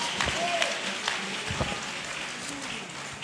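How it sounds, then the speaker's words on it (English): A church congregation claps hands in scattered, uneven bursts, moderately close and soft, with some voices mixed in beneath the clapping. "Clap your hands for the Lord."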